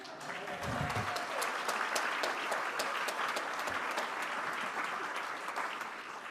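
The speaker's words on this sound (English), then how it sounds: "okay, let's clap" A Rotary club luncheon audience in Tulsa applauds a centennial keynote speaker, steady dense clapping that fills the room throughout, with a brief voice near the start.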